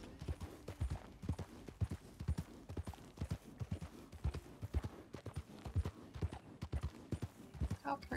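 Hooves of a horse with a red saddle clip-clop in a steady walking rhythm in a role-play video game, faint and continuous with a voice talking over them.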